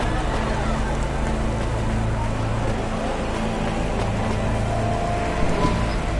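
Steady, even rain hisses through the neon city streets of the video game Cloudpunk, holding a constant level throughout with a low mechanical hum running underneath.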